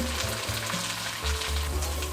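Popcorn kernels heating in an open pan give a short, close burst of steady frying sizzle and crackle, with a low hum beneath.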